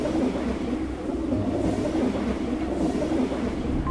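A train rolling along rails, a steady close rumble with rhythmic clatter of wheels on track, continuous and unbroken with no voices over it.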